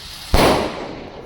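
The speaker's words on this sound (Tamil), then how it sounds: "அப்படியே சுற்றிட்டே ஒரு தரசக்கரம் சுற்றிட்டே வந்து வெடிச்சிச்சு" A sky shot firework bursts with one sharp, loud bang outdoors, then a fading crackling hiss as it spins and trails off.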